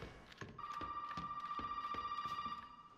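A telephone rings inside the Resident Evil 7 video game, a steady electronic tone held for about two seconds over repeated bell-like pulses, with a tense ambient game background and no talking.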